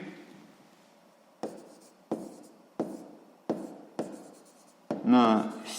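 Pen or chalk scratching out a sixth-grade math solution by hand, in short separate strokes about every half second to second, close and quiet, with a voice speaking near the end.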